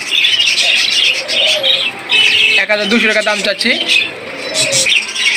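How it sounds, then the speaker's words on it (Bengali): A pair of adult doves coo softly in the background, mixed with small chirps from other caged birds, while someone talks over them almost continuously. "নিচে এখানে দেখতে পাচ্ছেন এক জোড়া ঘুঘু পাখি রয়েছে, অ্যাডাল ঘুঘু পাখি"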